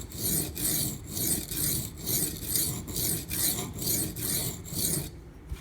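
A knife blade rasps across the coarse side of a Schrade Old Timer sharpening stone in about a dozen regular back-and-forth strokes, close and crisp, then stops.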